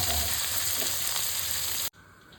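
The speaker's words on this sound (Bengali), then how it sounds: "বড় সাইজের 3টে পেঁয়াজ কুচি দিয়ে দিলাম, দিয়ে একটু ভালো করে একটু নরম নরম করে একটু ভাজবো" Three large chopped onions fry in a pan with a loud, dense, steady sizzle that cuts off abruptly near the end. The sound is close and continuous, with no voices.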